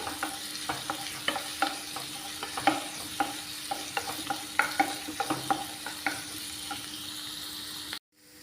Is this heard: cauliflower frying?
yes